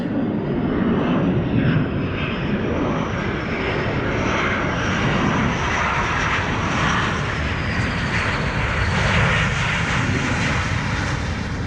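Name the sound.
jet airplane landing on runway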